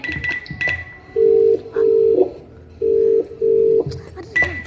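A telephone call is placed with a quick run of keypad dialing beeps, followed by four steady ringback tones in two evenly spaced pairs, loud and close.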